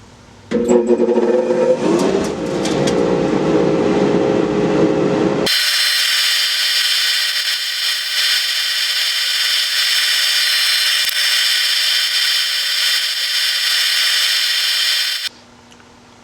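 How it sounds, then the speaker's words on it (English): An electric sander buzzes loudly and steadily across a live-edge chestnut oak slab, preceded by brief rough scraping and handling noises before the high continuous whir takes over for about ten seconds. "Time for sanding."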